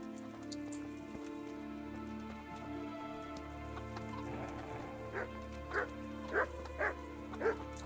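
A dog in Kingdom Come: Deliverance barks five short, sharp times near the end, over a steady rain ambience that runs throughout.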